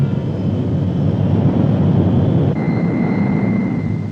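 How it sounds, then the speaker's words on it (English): A US Navy C-130 Hercules serving Antarctic stations runs its engines with a loud, steady droning roar and a faint high whine, continuous throughout. "The C-130 Hercules, newest and most versatile addition to the Navy's air fleet, provides an efficient lifeline between the isolated stations and the coastal support base."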